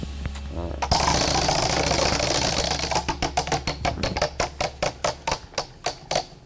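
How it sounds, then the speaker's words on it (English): Prize wheel spinning: a rapid ratcheting clatter that slows into evenly spaced clicks as the wheel winds down, with a low hum beneath. "Let's spin the wheel and see who it lands on this week."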